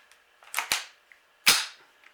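Marlin Model 60 rifle with its magazine tube being handled and slammed home, several sharp metallic clicks and clacks close by, the last one loudest, with no talking.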